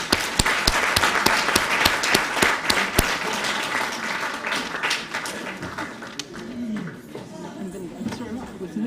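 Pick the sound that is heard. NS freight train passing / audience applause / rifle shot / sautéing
audience applause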